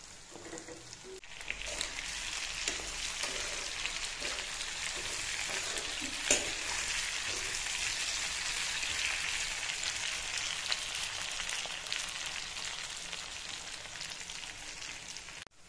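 Pork and cut potatoes fry in a pan, a dense continuous sizzle with light crackling and an occasional stir or clatter, close and steady throughout with no talk.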